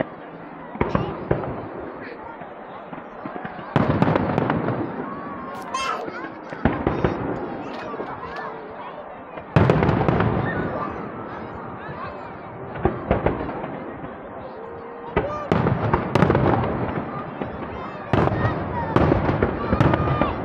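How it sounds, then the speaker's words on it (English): Fireworks display at the Blackpool fireworks championships: continuous crackling bursts and rapid pops in waves, loud and close, with people talking among the crowd. "This is the only time when you get to keep up late and come out late, is so you can watch the fireworks,"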